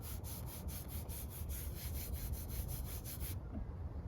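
A clay bar is rubbed back and forth over the paint of a first-generation Toyota Tundra, giving a quiet rhythmic scrubbing of about a dozen even strokes before it stops.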